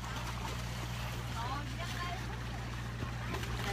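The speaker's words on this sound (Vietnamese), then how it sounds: "Ê mô tô nước kìa." A jet ski passes out on the sea, a low droning engine hum with a steady buzz beneath splashing water, heard at a distance under people talking on a boat.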